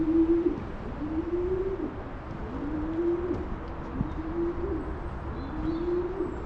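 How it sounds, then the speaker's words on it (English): Pigeons inside a tall, empty building coo in a slow repeating pattern, each low rolling call echoing softly against steady room noise, with no voices. "Unoccupied apart from some pigeons."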